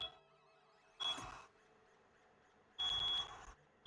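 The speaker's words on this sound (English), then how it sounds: "You can hear the beeping." A smoke alarm chirps in two loud bursts of shrill, harsh beeping about two seconds apart, with quiet room tone between the blasts.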